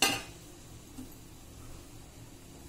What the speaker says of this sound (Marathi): असं पातेल्यावर उघडं मारायचं ते ताट